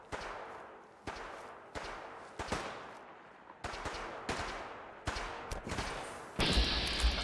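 Gunfire in Fallout 4 comes as repeated loud bursts of sharp cracks spaced about a second apart, with a dense rattling volley at the end.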